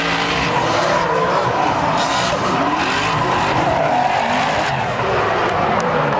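Drift cars skid at the Swedish Drifting Championship, including a V8 Toyota Supra, with loud continuous tire squeal and roaring engines that fill the whole stretch.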